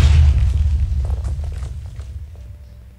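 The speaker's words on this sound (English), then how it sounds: "I'm just causing massive explosions" A massive explosion goes off in a Minecraft-style video game, opening with a loud, deep boom that rumbles and crackles as it slowly fades over a few seconds.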